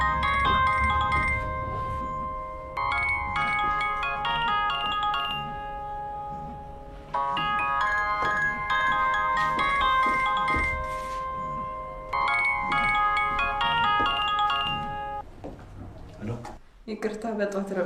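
A melodic electronic phone ringtone repeats in several long bursts in an indoor scene from an Ethiopian drama, loud and steady, stopping near the end.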